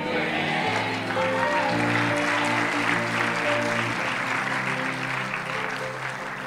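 A church congregation clapping during a sermon, a sustained loud wash of applause that fades slightly toward the end, with a voice speaking and sustained music tones underneath.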